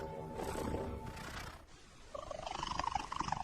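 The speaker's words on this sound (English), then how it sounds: "Recent research discovered a second type of purr that cats use." Domestic cat giving an urgent solicitation purr, a loud rumbling purr with an added higher-pitched cry-like tone rising over it toward the end, close and alone.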